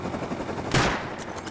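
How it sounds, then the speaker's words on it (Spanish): A single burst of gunfire rings out in the survival game Rust, sharp and fairly close over low background ambience. "Me está disparando a mí ahora"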